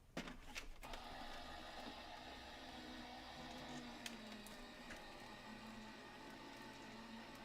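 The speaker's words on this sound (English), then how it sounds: "Run it through my die cutting machine." Die cutting machine running steadily for card making, a continuous mechanical whir with a faint hum and occasional small clicks, close by and alone without talk.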